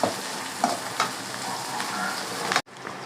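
Onions with green chilies and curry leaves sautéing in a pan for egg kurma, a steady close sizzle with a few stirring knocks, breaking off sharply near the end.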